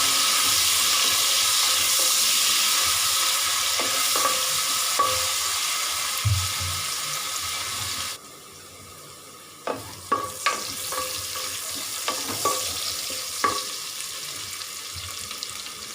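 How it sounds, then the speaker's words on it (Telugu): Onions frying in oil with salt for mutton biryani, a steady sizzle with occasional stirring scrapes and clinks, with a brief quieter break midway before the stirring resumes. "త్వరగా ఫ్రై అవ్వడం కోసం సాల్ట్ వేసుకొని మనము ఫ్రై చేసుకుందాం ఆయిల్లో"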